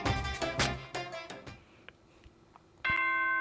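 A bright chime from the video game Danganronpa: Trigger Happy Havoc on PS4 rings out, a run of ringing bell-like notes that fade away before a sustained tone sounds.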